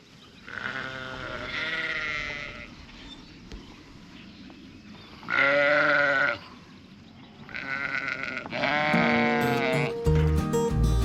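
Sheep bleat in a farm pasture, three separate loud calls spaced a few seconds apart over quiet outdoor background, with some rustling and handling noise at the end.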